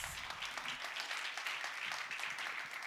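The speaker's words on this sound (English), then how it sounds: "All right, round of applause for Ekaterina, please." A volunteer gets applause from the audience at a talk, brisk continuous clapping that sounds faint and distant throughout.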